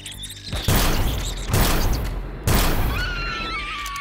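Three heavy T2 shotgun blasts go off in Empyrion Galactic Survival, spaced about a second apart. Each one is a loud, booming punch that fades into a short tail, with faint whining game effects after the last shot.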